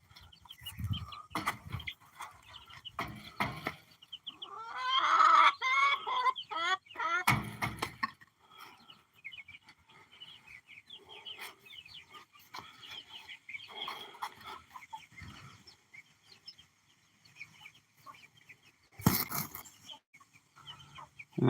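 Several hens and young chicks cluck and squawk in a backyard coop, with scattered close calls and one louder burst partway through, amid low rustling and quiet intervals.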